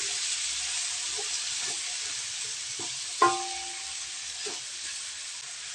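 Onion and tomato frying in a pan for genisang sitaw, stirred with a utensil; a steady close sizzle runs throughout, with a few soft scrapes and one sharper clink about midway.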